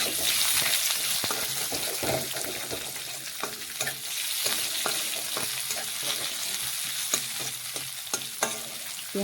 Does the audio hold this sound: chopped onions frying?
yes